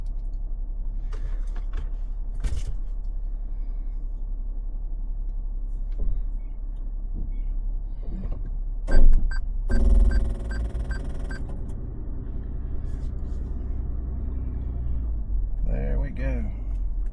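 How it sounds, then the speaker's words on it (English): A four-wheel-drive car pulls away from a lakeside camp spot on loose ground, its low engine rumble steady throughout with a brief louder surge of effort midway, heard from inside the vehicle. "It's gonna have to go in four-wheel drive to get out of here."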